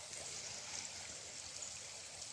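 Creek water flowing steadily beside a pond, a quiet, continuous trickling wash with no distinct splashes, faint and even throughout.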